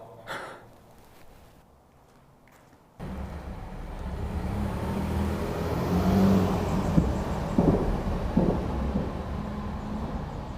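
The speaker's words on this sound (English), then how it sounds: "That's my truck." A truck engine starts up and revs into a loud, broad rumble that swells and holds, with a few sharper bursts as the throttle rises.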